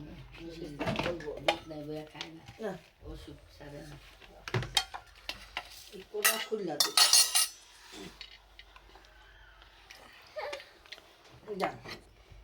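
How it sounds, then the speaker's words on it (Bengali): Plates and dishes handled in a home kitchen while pitha is being cooked, with clinking cutlery and crockery knocking in bursts, close by, alongside frequent conversation. "আরেকটা প্লেট উঠাও"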